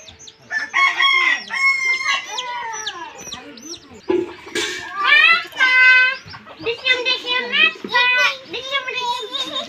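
A chicken clucks and squawks loudly in short agitated bursts while being chased for catching, mixed with excited children's voices and talk throughout.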